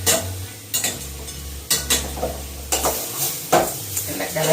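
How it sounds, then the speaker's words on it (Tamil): Cauliflower gravy masala being stirred in a pan: repeated loud scraping strokes of a spoon against the metal over a low sizzle, close by and rhythmic, with no talking. "மசாலாவை நல்லா கிளறி விடணும்."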